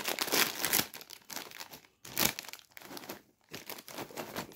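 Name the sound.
crinkling plastic wrapper of a Joker snacks box being opened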